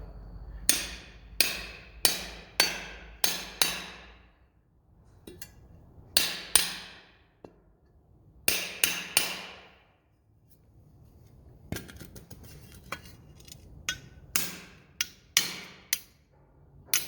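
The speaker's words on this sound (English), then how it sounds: "hammer them into the ends of the strut." Sharp, ringing hammer blows drive barbed anchors into the ends of a steel strut on a Quincy 340 air compressor, in rapid bursts of three to five strikes separated by short pauses, close and loud with a metallic clink.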